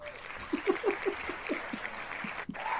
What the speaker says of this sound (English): guys hear the applause